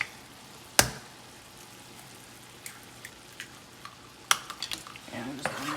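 Two eggs cook with cabbage in a pan, a faint sizzle under scattered utensil scrapes and clinks, with one sharp knock early and another later followed by a cluster of stirring taps.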